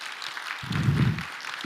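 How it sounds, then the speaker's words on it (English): Audience applause at an annual scientific conference, light scattered clapping that sits under a brief low-pitched swell and then tails off. "Let's give them another round of applause."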